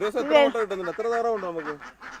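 Ducks on a small home duck farm quack in a loud, close chorus of overlapping honking calls, with several birds calling in quick succession and no other sounds.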